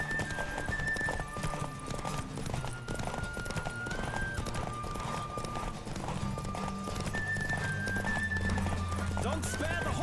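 Rapid hoofbeats of a galloping horse with a whinny in The Witcher 3: Wild Hunt, set under steady background music and game sounds.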